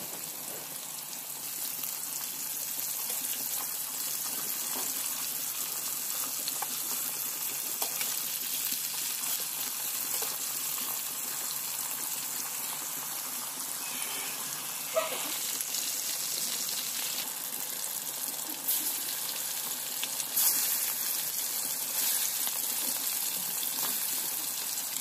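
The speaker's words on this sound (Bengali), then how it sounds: "আর কড়াইতে তেল দিয়ে এবার চিকেনগুলোকে খুব ভালো মতো ভেজে নেব।" Chicken pieces fry in oil in a kadai with a steady, hissing sizzle that stays even and moderately loud throughout, with a few faint clinks and no talking.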